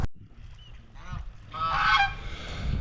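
Geese honking at a pond, a few calls early on, then a louder cluster of overlapping honks in the middle, fairly near, with outdoor background noise and no talking.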